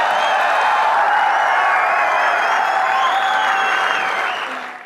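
A crowd at a talk gives broad, steady applause, with thin sustained whistle-like tones wavering above the clapping. It fades slightly toward the end.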